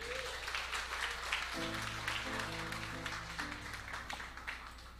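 A church congregation claps steadily, somewhat distant and faint, while gentle keyboard music plays underneath.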